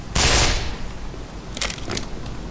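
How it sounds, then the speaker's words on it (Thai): A sudden loud burst of rapid machine-gun fire erupts in the video game Half-Life Black Mesa, followed a second later by a couple of shorter, quieter bursts against a low rumbling background. "มันรัวไปน่ากระสุนปืนไอ้ปืนเนี้ย"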